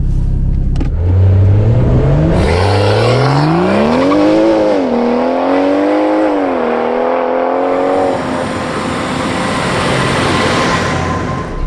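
A BMW M140i accelerates hard with its wheels spinning, the engine note climbing steadily and loudly through the revs, easing back, then rising again before dropping into a rough rumble, with a sharp crack near the start.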